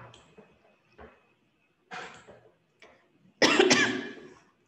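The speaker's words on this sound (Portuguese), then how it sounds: "Ainda tô tossindo um pouquinho." A person coughing, with a few soft scattered coughs first, then a sharp, much louder double cough near the end that fades out.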